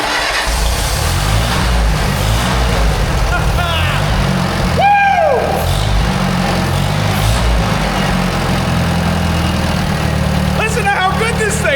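A rare old Michigan loader, just pulled from the scrap yard, idles after starting. Its diesel engine rumbles loud and steady throughout, and a person talks over it.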